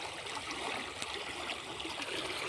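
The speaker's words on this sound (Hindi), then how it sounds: "मैं एक नाले को दिखाना चाहता हूँ, बहते हुए नाले।" A flowing stream of water trickles and babbles steadily at low volume, an even outdoor wash with no voices.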